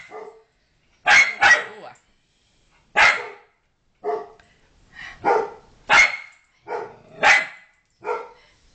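A small dog barks at its own reflection in a mirror, giving about nine sharp, separate barks with short gaps between them, close and clear with no talk.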